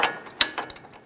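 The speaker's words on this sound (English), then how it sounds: "You can use a 10 millimeter wrench on the bottom and then a 21 millimeter ratchet wrench" 21 millimeter ratchet wrench turning a nut on a 2011-2018 Ram 1500 front wheel bearing hub, a few quick close metallic clicks of the pawl in a brief burst, with no talk.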